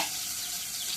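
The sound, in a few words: oil added to a hot pan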